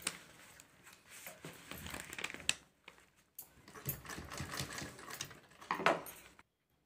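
Faint, close sewing machine stitching piping around the edge of a cloth bangle cover, an irregular whirring rattle in short runs with a brief pause midway.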